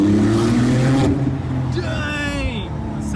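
Porsche 991.2 Turbo twin-turbo engine pulling hard under acceleration in manual paddle-shift mode, a loud, steady low drone with rising tones as revs climb, then easing, with people talking over it.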